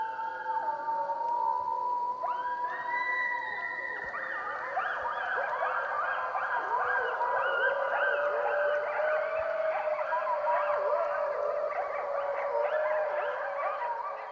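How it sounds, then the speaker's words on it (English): A wild wolf gives a mourn howl, long sustained wavering cries that slide down in pitch, with several overlapping voices joining in a chorus against a quiet wilderness background. "We call this a mourn howl."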